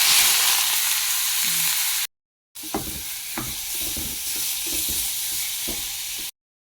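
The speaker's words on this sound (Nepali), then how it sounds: "अघि ग्राइन्ड गरेको प्याज तेलमा लगाउँदैछु" Ground onion sizzles in hot oil with a loud, bright hiss, then after a brief gap the frying continues under scraping stirs and clinks of a utensil against the pan.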